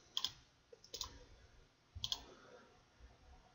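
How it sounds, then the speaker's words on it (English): A computer mouse clicks crisply and close in a quiet room, single clicks and quick double clicks spaced out irregularly while points are traced along a curve in circuit simulation software. "So we'll just click along at the bottom here."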